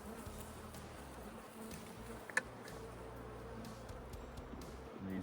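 Honey bees buzz steadily around an opened hive while brood frames are being checked, a soft continuous drone close by, with one brief sharp knock partway through.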